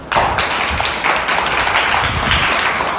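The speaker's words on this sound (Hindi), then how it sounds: "उस परमेश्वर के लिए ताली बजाओ" Congregation clapping for God during a Hindi-language sermon on spiritual life, a dense, continuous burst of hand claps filling a short three-second stretch without speech.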